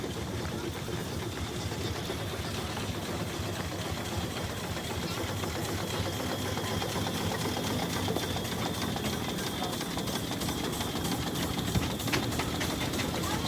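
A steam engine runs in a parade at the 2024 Corbridge steam rally, giving a steady rapid mechanical chuffing and clatter close by, with a constant outdoor rumble beneath and faint voices in the background.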